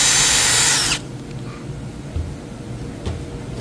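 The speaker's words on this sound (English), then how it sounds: "then we'll drill right in the corner as deep as that front part of that bit" A power drill whines loudly for about a second as it bores into a wooden kitchen cabinet corner, then stops, leaving quiet handling noises and a faint knock.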